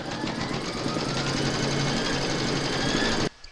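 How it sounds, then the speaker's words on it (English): An embroidery machine stitches a round through hooped batting for a poppy mug rug, a steady close mechanical whirring with rapid needle rhythm that runs continuously, then stops abruptly near the end. "Pop your hoop into your machine and stitch round number 2"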